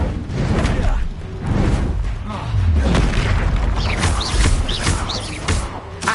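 Incendio fire spell blasts in Hogwarts Legacy, a continuous rumbling whoosh and boom of magical fire with layered game effects and a spoken incantation, dense and loud throughout.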